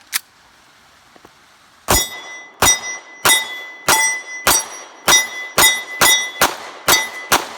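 Springfield Armory Hellcat 9mm pistol fired about a dozen times outdoors, one sharp shot, then a brief pause, then a rapid, fairly even string of loud, close cracks with ringing tails.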